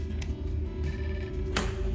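Telephone ringing in Zorg's office, a shrill electronic ring in short bursts over a low humming background, fairly close and with no talk.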